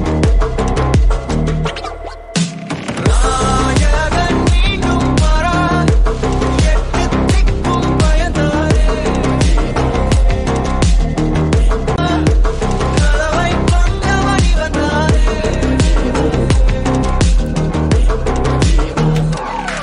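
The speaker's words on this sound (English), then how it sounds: "you'll be hearing in the background, like, there's like a choir, a bass choir" Loud, dense orchestral-electronic music from a Tamil film, with a deep bass choir woven into the background, a brief drop near the start before a driving, continuous build.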